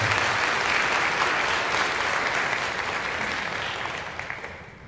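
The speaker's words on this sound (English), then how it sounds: "And we can clap." Audience at a church service applauds graduating seniors: a steady burst of clapping from a moderate crowd, gradually tapering off toward the end.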